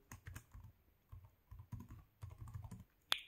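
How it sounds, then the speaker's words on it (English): A computer keyboard being typed on to enter a password at a Chromebook sign-in, quiet irregular keystrokes in short bursts across a few seconds, ending with one sharper key press. "So I will type my password."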